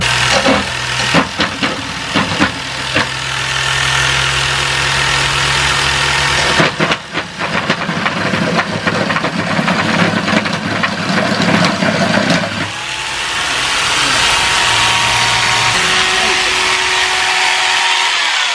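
A jigsaw cuts wood for a DIY wooden trunk, loud buzzing runs starting and stopping across several passes, with a rattling blade and shifting pitch between cuts.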